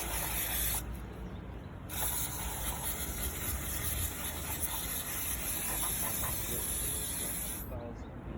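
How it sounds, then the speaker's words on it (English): Brake cleaner sprayed from an aerosol can onto a part during a service of a 2015-era BMW 118i F20 1.5 engine, a steady close hiss in two bursts, the first short and the second long. "What I'm going to do now is clean this with some brake cleaner."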